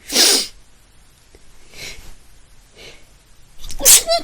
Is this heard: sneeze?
yes